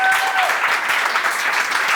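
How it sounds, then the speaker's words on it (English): Warm applause from an audience at a Creative Mornings talk in Derby, welcoming speaker Rob Dawes; steady clapping from a roomful of people fills the moment. "give him a round of applause"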